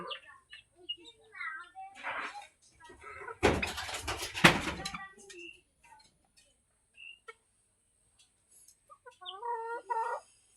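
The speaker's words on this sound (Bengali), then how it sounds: "এটা হচ্ছে ব্রাহ্মার মুরগি।" A Brahma hen clucks in short, scattered bursts close by, pausing between calls, with a loud rustling burst midway and quiet stretches.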